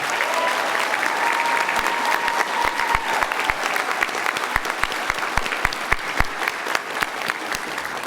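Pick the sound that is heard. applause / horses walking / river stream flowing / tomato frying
applause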